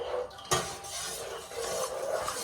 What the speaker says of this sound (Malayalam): പാൽ ഒഴിച്ചിട്ട് നന്നായിട്ടൊന്ന് ഇളക്കുക.